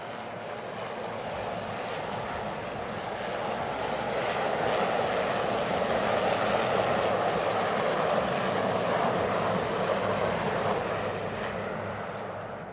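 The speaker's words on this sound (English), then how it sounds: "Led by Commander Sumit Gupta, the Seakings flying past in an arrow formation." Three Navy Sea King 42 helicopters flying past in arrow formation during a flypast, a broad roaring engine and rotor noise swelling as they approach and fading slowly away, loud and continuous.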